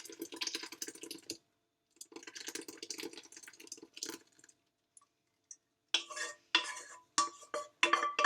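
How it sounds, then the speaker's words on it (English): Berry syrup poured through a sieve into a bowl: a close, trickling, liquid patter with bursts of clinking and tapping, broken by short silences and sharper knocks toward the end. "set up here to sieve out the berries. And they'll go into the bowl underneath."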